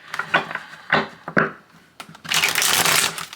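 A deck of tarot cards is shuffled by hand in a series of crisp, papery riffles and slaps. Louder bursts build into a continuous flurry near the end, close up, with no voices.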